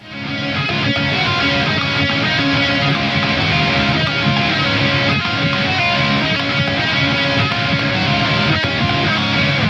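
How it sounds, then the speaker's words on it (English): Two electric guitars play together, a pop punk single-note lead over a strummed rhythm part, forming a dense, loud, continuous wall of sound without talking. "And then with the backing rhythm guitar, it's going to sound like this."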